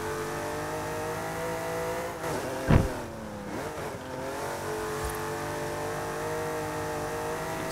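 A 1966 Jaguar XJ13 race car in Forza Horizon 5 runs at around 100 mph with a steady, loud engine drone and a sharp rising rev burst midway, with no talking.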